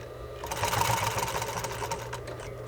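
A sewing machine stitches steadily along a curve, a quiet rapid whirring clatter that swells briefly and holds on, close by and alone.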